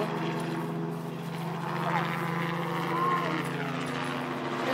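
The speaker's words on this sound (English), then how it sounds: "A helicopter that's hovering above us." A helicopter hovers overhead as a steady low rotor drone under ongoing outdoor chatter and children's voices, moderately loud and continuous throughout.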